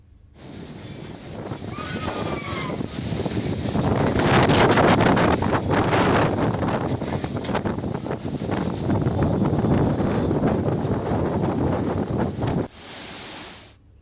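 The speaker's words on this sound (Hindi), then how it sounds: "राजधानी समेत कई जिलों में तेज हवाओं के साथ बारिश हुई" Strong wind roaring steadily across the microphone with a dense, rushing wash that suggests rain, a sustained loud gust lasting most of the clip before dropping off near the end.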